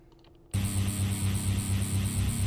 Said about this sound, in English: I have a wavetable that sounds like that.